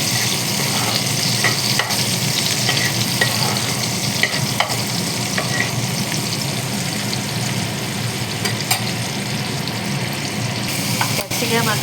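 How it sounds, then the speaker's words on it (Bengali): Garlic and chillies fry in a wok with a constant loud sizzle. Scraping stirs and occasional clinks of the spatula break through it for the whole stretch. "এই যে রসুন আর লঙ্কা দিয়ে এবার একটু নাড়াচাড়া করে ভাজা ভাজা মতো করে নেবো"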